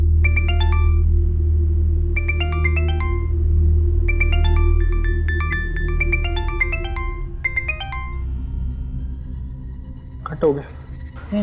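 A melodic electronic ringtone plays in repeated bursts over a low hum, then stops, followed by a voice and some clatter.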